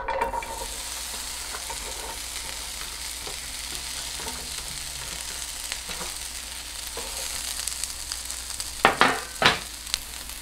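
Onions sizzle and crackle in a hot pan of runny oil, with a steady frying hiss and a few louder stirring scrapes near the end.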